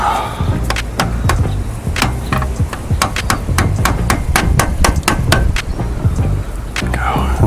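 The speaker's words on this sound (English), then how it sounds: "Grab your handy dandy screwdriver and hammer, or chisel if you actually have one" A hammer strikes a screwdriver used as a chisel to break the wheel bearing seal on a Jeep Cherokee XJ, producing a long run of sharp, loud metallic blows in an uneven rapid rhythm, close by.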